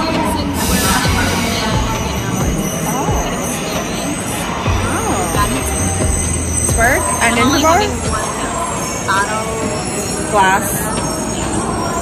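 A train in Japan, heading to Osaka, rumbles and its wheels squeal along the rails while several people talk and exclaim loudly nearby.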